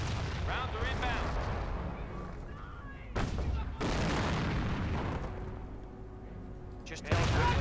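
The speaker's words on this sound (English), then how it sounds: "Rounds are inbound." Incoming artillery fire in the World War II strategy game Company of Heroes, several heavy booms and blasts landing among battle noise, with game voices talking over the explosions.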